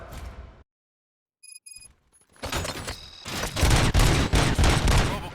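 Gunfire in the video game RoboCop: Rogue City, a loud burst of rapid shots and impacts crackling in a dense volley after a brief near-silence with a few faint electronic tones.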